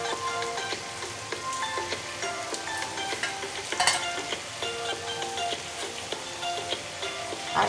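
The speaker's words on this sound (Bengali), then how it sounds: "মাছের ডিমগুলো দিয়ে দিলাম আর মুড়োটা দিয়ে দিলাম।" Hilsa fish head and roe fry in a pan with oil, giving a close, busy crackle of sizzling pops and scattered clinks, steady throughout with no speech.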